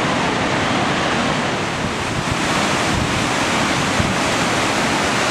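Steady Brook Falls in Newfoundland roars as a dense, continuous rush of falling water, loud and close, with steady broadband noise and some wind buffeting against the microphone.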